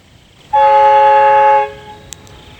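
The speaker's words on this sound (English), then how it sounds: "This is going to be the sound test of the Horn Tech air horn." A single loud, sustained blast from a Horn Tech car air horn, about a second long, harmonically rich and bright, then fading into quiet ambience.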